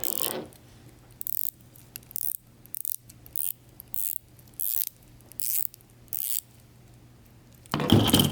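Dive watch bezel on a budget Invicta-style diver being turned in short bursts, each giving a quick run of crisp ratcheting clicks, close and fairly quiet, repeated about eight times with brief pauses between.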